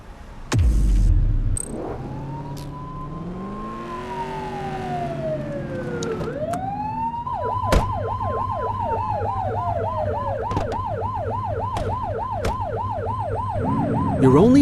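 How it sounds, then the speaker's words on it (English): A police car siren in the video game The Precinct wails loudly, rising and falling slowly before switching to a rapid repeating yelp, heard up close with no talking. "You're only meant to use the siren in emergencies."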